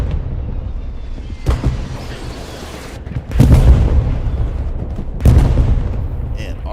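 Booming artillery blasts in a World War II video game, a couple of heavy, close impacts landing a few seconds apart over a steady low rumble of battle, with voices talking over the action.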